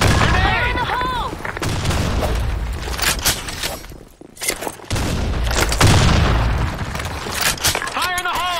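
Grenade blasts and gunfire crack through a Counter-Strike match on the Office map, loud booms and rattling shots recurring across the stretch, with shouted voices and whistling tones mixed in.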